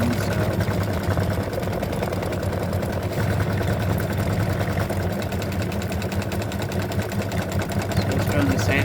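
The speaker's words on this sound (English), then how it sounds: "it's doing the satin stitching around the edge" An Elissimo embroidery machine stitches a satin edge around a spider earring, giving a steady, rapid mechanical whir and clatter that runs without pause for several seconds.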